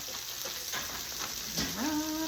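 Onions frying in a hot pan give a dense, steady sizzle with crackling spatters throughout, close and moderately loud, with a brief tonal whine near the end.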